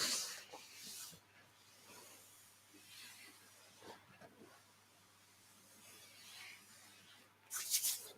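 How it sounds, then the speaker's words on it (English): Hands rubbing down along the arms during a yoga session, a soft close brushing hiss of skin and fabric that rises and fades in slow strokes, quiet and without talk. "And then rub down through your arms."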